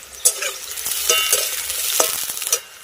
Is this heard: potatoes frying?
yes